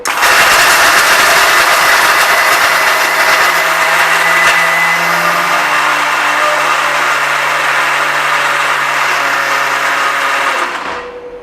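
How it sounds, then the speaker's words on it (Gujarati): An electric mixer grinder whirs loudly and continuously, grinding sugar, fennel seeds, black pepper and cardamom into powder, then winds down near the end. "તો આપણે મિક્સરમાં પીસી લેશું."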